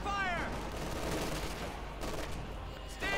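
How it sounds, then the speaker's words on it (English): Light machine gun fire from Company of Heroes 2 rattles in dense, steady bursts under a busy battlefield din, with a brief high electronic tone at the start and end. "surprisingly ends up badly there with all the light machine guns bearing down on them"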